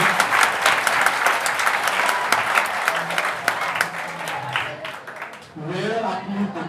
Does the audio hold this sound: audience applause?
yes